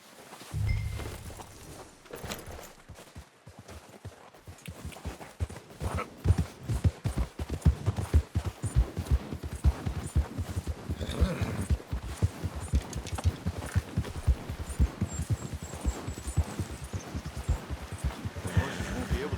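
Horse hooves walking in Red Dead Redemption 2, a steady clip-clop rhythm of shod hooves that builds up after a quieter opening and carries on evenly, close and fairly loud.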